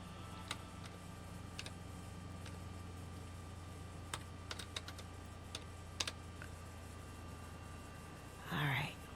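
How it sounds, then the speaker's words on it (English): Computer keyboard typing in a quiet room, a sparse run of separate key clicks over several seconds under a steady low hum, followed by a brief louder rustle near the end. "Okay, I'm going to have to type."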